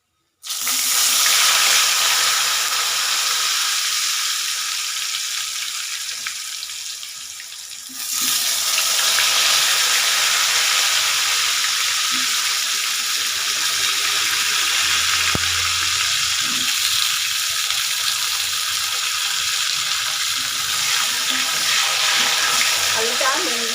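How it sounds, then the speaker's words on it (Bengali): Potatoes fry in hot oil in a home kitchen, a loud continuous sizzle that spikes as they go in, then settles into a steady crackling hiss close by with no talk. "এই তেলের মধ্যেই আমি দিয়ে দেব আলুগুলো দিয়ে ভেজে নেব।"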